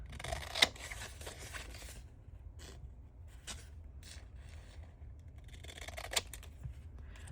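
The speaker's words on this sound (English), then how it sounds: "I'm going to get my long scissors" Long scissors cut roughly through craft paper nearby, several faint crisp snips and scraping slides spaced irregularly in a quiet room.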